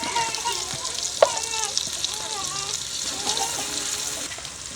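Spices and red chili sizzling in hot ghee in a pan, a bright steady frying hiss with occasional crackles and scraping stirs, close and loud throughout.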